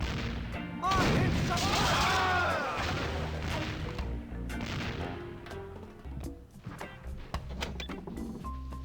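Cannon shots in The Curse of Monkey Island video game land as a loud, close booming blast about a second in, then rumble and crackle away into fainter scattered bangs over game sounds.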